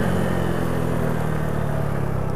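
A small Honda Pop 110i motorcycle engine runs with a steady, buzzing putter and some rattling, close and fairly loud throughout.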